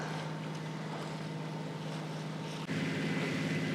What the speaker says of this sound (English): We're having a romping good sail.